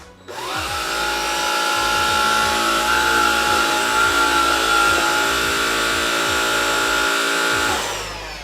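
A BLACK+DECKER Extreme vacuum on its lowest power setting runs with a steady, loud motor whine that starts up, holds evenly for several seconds, then winds down at the end, with no one speaking.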